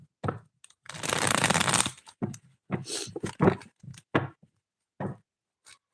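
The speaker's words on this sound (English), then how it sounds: "Let me just shuffle the cards in the meantime as I wait for you to donate." A deck of tarot cards is shuffled by hand in a live reading, with a long riffling burst followed by shorter shuffles, taps and snaps of the cards, close and distinct.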